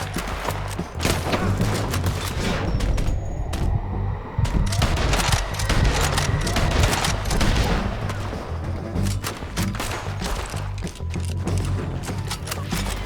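Gunfire in a Red Dead Redemption 2 firefight, a dense, loud barrage of overlapping rifle and revolver shots cracking continuously and close, with brief gaps and rapid volleys throughout.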